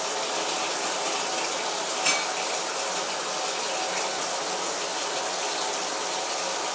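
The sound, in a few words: water filling a film developing tank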